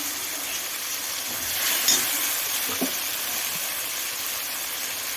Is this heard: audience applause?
no